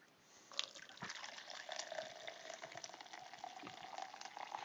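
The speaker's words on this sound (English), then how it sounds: "Pouring me another cup here." Coffee pours steadily into a cup, heard close up as a continuous liquid trickle after a brief start.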